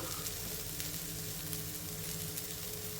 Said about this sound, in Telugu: ఇప్పుడు ఈ ఉల్లిపాయ ముక్కల్ని 1 నిమిషం ఫ్రై చేసుకోవాలి.